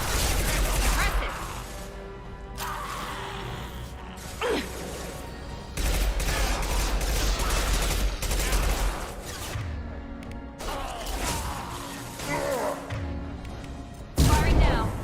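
Video game combat fire: sustained loud volleys of gunshots and booming bursts repeat in waves across the stretch, close and heavy, with radio voices and talk over the shooting.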